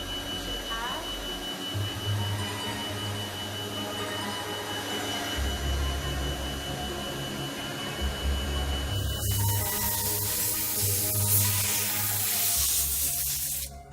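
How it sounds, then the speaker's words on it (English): A smaller CNC machine runs in an industrial workshop, giving a steady loud mechanical drone with low pulsing hum. A harsher, brighter hiss like cutting or coolant spray takes over partway through. "Here is a smaller CNC machine hard at work."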